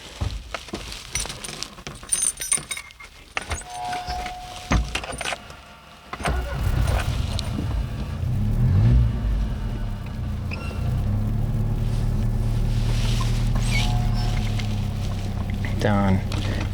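A 1982 Saab 900 fires up and pulls away: keys jangle and the starter turns over, then a steady loud engine rumble builds and holds as the car gets moving, close to the cabin.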